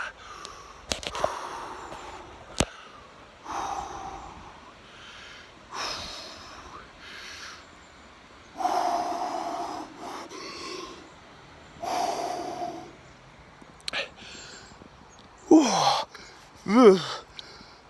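Deep, forceful breaths while wading into cold open water on a wild swimming outing: a series of loud snorting inhales and gasps, spaced a second or two apart, ending in sharp quick gasps.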